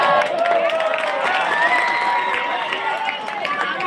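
An audience at a madrasa program in Balasinor claps and calls out in a dense, loud, sustained wash of hands and voices, with talk running through it.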